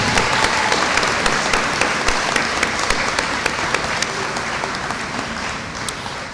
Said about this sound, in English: if you would join me in a round of applause recognizing Dr. Deb Dahlke from Psychology and Dr. Mary Catherine Harper from English.